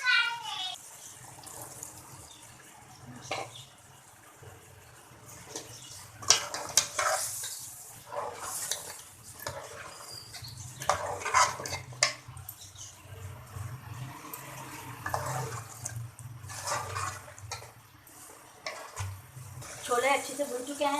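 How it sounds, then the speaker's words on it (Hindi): Chickpeas going into a pot of cooked chicken, with scraping, stirring and a light sizzle of frying that rises and falls in bursts, and voices at times over the cooking. "अब हम इसमें छोले डालेंगे"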